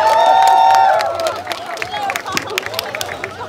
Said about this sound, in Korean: 수고해 주신 플레쉬뱅에게도 큰 박수 한번 부탁드립니다